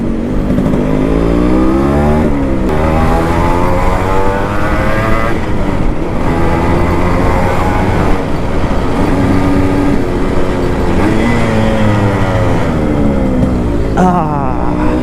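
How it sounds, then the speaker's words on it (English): A restored Yamaha RX 100 two-stroke motorcycle engine revving hard and rev matching through gear changes, the loud buzzing pitch repeatedly climbing and dropping close by, with no break in the engine noise. "It's been so long that I rev matched, and rev matching is a beautiful art."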